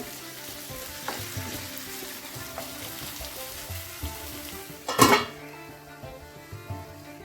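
Chopped tomato pieces cook in a covered pan with a steady frying sizzle and light crackles, broken by a sharp metallic clatter of the pan or lid midway.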